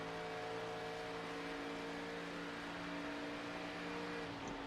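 Race car engine in an ARCA eSports racing video game, a steady high droning whine held at constant pitch, moderately quiet and continuous.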